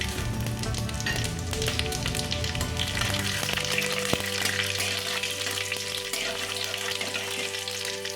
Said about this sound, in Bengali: দিয়ে দেবো অল্প তেল আর এখানে একটা দেবো শুকনো লঙ্কা দিয়ে দেবো পাঁচফোড়ন